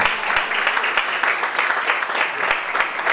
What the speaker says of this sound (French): applaudissez très très fort le Seigneur Jésus